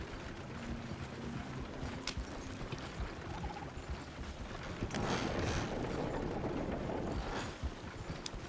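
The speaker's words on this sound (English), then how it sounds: "This is a giant horse. A Suffolk Punch." A giant Suffolk Punch draft horse in Red Dead Redemption 2 clip-clops along with a steady hoof rhythm, joined by light mechanical clicks and a louder rumbling stretch toward the end.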